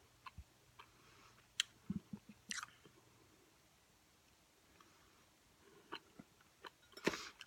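Fast chewing of watermelon bubble gum close to the mic, with scattered wet clicks, squishes and smacking bursts spaced irregularly between quieter moments.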